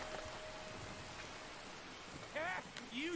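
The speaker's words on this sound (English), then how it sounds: "Damn, it's raining and shit." Steady rain falls in the open world of Red Dead Redemption II, a soft continuous patter with a brief voice or animal call rising near the end.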